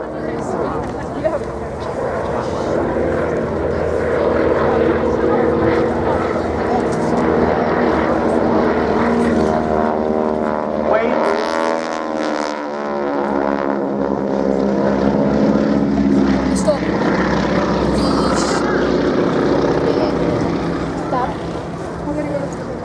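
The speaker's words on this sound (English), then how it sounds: "Notice the lovely sound from the propellers," Propeller aircraft engines drone loudly at an airshow, the supersonic propeller tips creating shock waves that make the pitch sweep and pulse in a wavering wow-wow pattern as the plane passes, with a voice talking over it.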